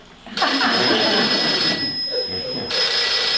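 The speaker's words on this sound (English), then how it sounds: "Gracie, I'll get the phone." A telephone bell rings as a sound effect on a Burns & Allen radio comedy show, two loud, close ringing bursts with a short gap between them and no talk over them.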